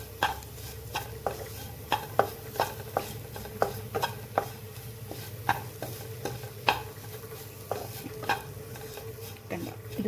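Jackfruit seed masala with coconut being stirred in a pan, a spoon scraping and clinking in a steady rhythm over a low background hum and faint sizzle.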